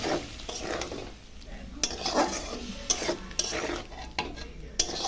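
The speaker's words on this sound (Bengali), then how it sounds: "সব পটল আলুটা মশলার সঙ্গে আমি কষাবো।" Pointed gourd and potato sautéed with spices in a pan, heard as steady close sizzling with frequent stirring scrapes and occasional sharp clinks of a utensil on the pan.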